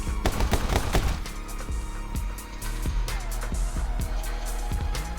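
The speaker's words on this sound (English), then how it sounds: "You have to take him out with guns." Gunfire in the video game My Friend Pedro, rapid bursts of sharp shots that cluster densely at first and then come as scattered single cracks over a steady game background.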